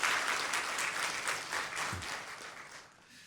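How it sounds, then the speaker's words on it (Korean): A church congregation applauds the choir during a Sunday worship service, steady full-room clapping that holds for about three seconds and then tapers slightly toward the end. "우리 이분들에게 모두 한번 박수를 보내주시면 어떻겠습니까?"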